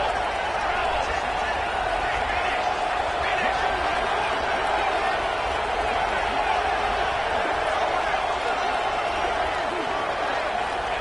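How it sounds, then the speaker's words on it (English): Loud, continuous stadium crowd roar in the NCAA 26 college football video game, a dense steady wall of noise with a broadcast commentator's voice running over it throughout. "And this crowd is deafening,"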